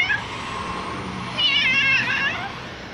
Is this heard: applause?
no